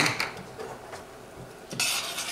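Rice stirred in a pot of seasoned boiling water just off the heat, a few soft scraping and clinking strokes of a utensil against the metal, close and quiet.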